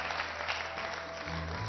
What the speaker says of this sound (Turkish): lütfen kocaman bir alkış